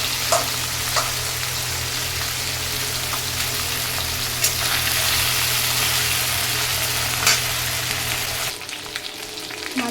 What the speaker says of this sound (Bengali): প্রথমে মাছগুলো ভেজে নেব কড়াই গরম হয়ে গেছে তেল গরম হয়ে গেছে